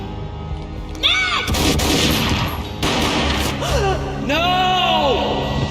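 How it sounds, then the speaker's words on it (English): Game gunfire from Max Payne: a sharp boom near the one-second mark, followed by dense, loud game action with a second blast around three seconds, layered with whooshing slow-motion effects and a faint gasp-like voice. "A gunshot boomed and she fell down in slow motion."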